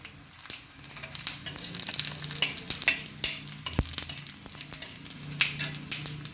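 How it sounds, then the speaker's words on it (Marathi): Coriander seeds fry in a pan alongside already-fried grated coconut, giving a steady crackling sizzle broken by repeated scraping stirs and sharp spatula clicks against the pan. "धने देखील आपल्याला 1 मिनिट छान परतून घ्यायचे आहे."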